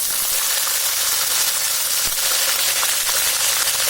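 Curry leaves dropped into hot oil in a pan with bay leaf, cloves, cardamom and garlic, giving a steady, loud, bright sizzle and spitting hiss throughout.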